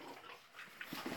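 American Staffordshire Terrier puppies let out faint, short whimpers and yips while playing, with a few quick squeaky cries close together toward the end.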